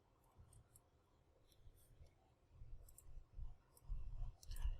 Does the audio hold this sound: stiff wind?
no